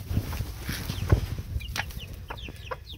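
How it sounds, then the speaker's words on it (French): Hen clucking softly beside her two young chicks in a farmyard, with faint high peeps scattered among low, close clucks. "je vais vous montrer les petits poussins"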